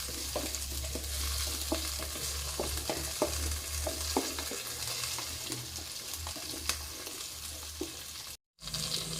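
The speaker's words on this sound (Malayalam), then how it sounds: "വെളുത്തുള്ളി നല്ലതുപോലെ ഒന്ന് വാടിക്കെടുക്കണം" Garlic sautés in oil in a pan for a papaya and date pickle, a soft continuous sizzle with repeated light scraping stirs of a spoon, close and fairly quiet, with a brief silent gap near the end.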